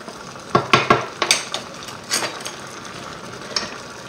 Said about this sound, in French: alors on va retourner notre viande